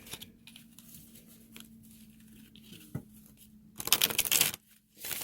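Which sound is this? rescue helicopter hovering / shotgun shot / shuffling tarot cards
shuffling tarot cards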